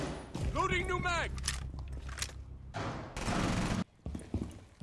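Bursts of gunfire in the tactical shooter Rainbow Six Siege, several sharp broadband cracks spread across a few seconds with busy game sounds and a voice talking between them.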